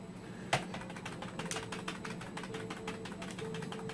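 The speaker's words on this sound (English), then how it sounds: "I'm hitting the delete key to get into the BIOS" Key presses on a Logitech G15 keyboard, repeated taps on the delete key while a computer boots toward its BIOS, a quick series of light clicks over a steady fan hum.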